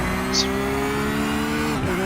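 GT3 race car in iRacing at the Hungaroring, heard from on board: a steady, buzzing engine drone holding pitch with a slight dip near the end, loud and without voices.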